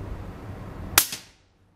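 A single sharp rifle shot rings out while a scope is being zeroed on a shooting range, a loud crack followed by a quick echo that fades into near silence.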